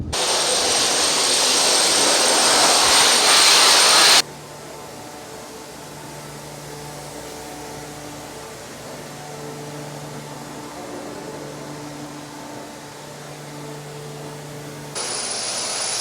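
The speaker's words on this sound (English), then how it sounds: "they're blasting again, as you can probably hear" Sandblasting at a sandblasting shop, heard as a loud, steady hissing roar for the first few seconds, cutting out to a lower humming drone, then the blast hiss resuming abruptly near the end.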